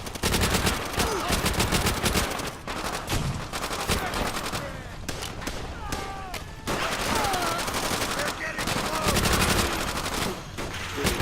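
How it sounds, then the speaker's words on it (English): In World at War, a machine gun fires from behind a wall in loud, rapid bursts that run almost without pause, mixed with other gunfire and faint voices in the battle. "There's a machine gun on the other side of that wall."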